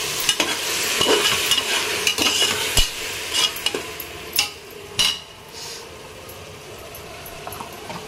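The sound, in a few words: tomato paste sautéing and being stirred for biryani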